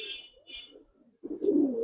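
Bagha Giribaz pigeons give soft, low cooing calls that swell louder toward the end, heard close by with faint higher chirps early on and no talking.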